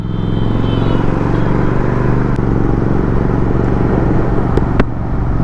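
A Royal Enfield GT650 motorcycle cruising on a highway, its steady loud engine drone and road rumble continuous and close throughout, with a couple of brief sharp clicks near the end and no talk.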